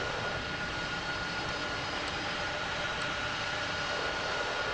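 Aircraft engines spool up during start-up and pushback in the World of Airports game at London Heathrow, a steady broad roar of jet noise that holds constant and fairly loud with no talk.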